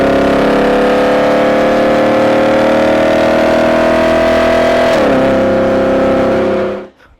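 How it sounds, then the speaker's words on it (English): A Lexus RC F V8 with a Borla catback exhaust holds a loud, sustained, droning rev that dips in pitch partway through before cutting off abruptly, with no voices. "a full catback, Borla catback exhaust."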